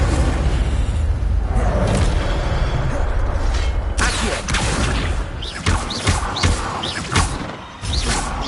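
An Incendio fire spell from Hogwarts Legacy bursts out in loud, crackling whooshes and heavy booms, several blasts landing in quick succession over a constant roar of game noise.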